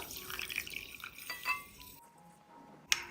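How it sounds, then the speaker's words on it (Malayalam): A cup of water poured into a bowl of sabja seeds, with clinks of glass or utensils and a soft liquid splash, ending in a sharp clink. "ഇനി ഇതിലേക്ക് ഒരു കപ്പ് വെള്ളം ഒഴിച്ചു കൊടുക്കാം"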